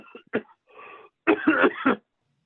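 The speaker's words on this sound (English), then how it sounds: "Coughing." A few short, harsh coughs up close, clustered in quick bursts, then silence.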